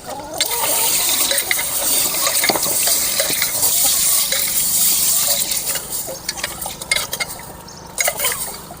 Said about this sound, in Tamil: தண்ணியில் கொட்டி சுத்தம் பண்ணி எடுத்துக்கலாம்.